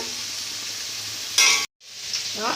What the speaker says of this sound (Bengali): আলুটা আমরা ভাজা করে নিচ্ছি